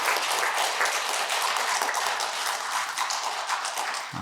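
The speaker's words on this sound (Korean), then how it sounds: "박수로 환영해 주시고" A church congregation claps to welcome newly ordained deacons at a Korean Presbyterian Sunday service in Niagara, a dense, even wash of applause from many hands that carries steadily for several seconds before stopping abruptly.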